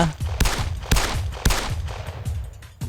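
Repeated gunshots in the game MTA San Andreas, several sharp broadband bangs at irregular intervals over a rumbling low background, loud and close with no talking.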